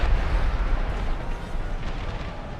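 Dense, rumbling low-frequency booms of Civil War cannon fire at Gettysburg in a video game roll together like distant artillery, steady and heavy throughout with no voices.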